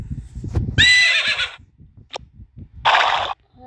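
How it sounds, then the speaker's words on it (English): A horse in the Toca Life World video game lets out two loud, shrill whinnies a couple of seconds apart, with soft clip-clop hoofbeats and light clatter between them. "Hi, horse."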